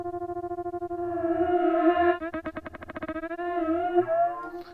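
A granular synth in the FRMS app with a sawtooth-shaped LFO modulating its grains gives a sustained buzzy tone that breaks into rapid rhythmic stuttering pulses, with a throbbing low pulse underneath.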